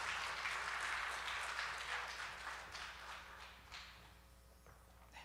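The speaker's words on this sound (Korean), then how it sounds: "뜨거운 박수로 맞이하겠습니다." A church congregation applauds warmly during a Friday prayer service to welcome the pastor, a dense, steady wash of clapping that gradually thins and fades over several seconds.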